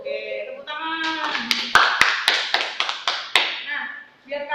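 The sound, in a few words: class clapping hands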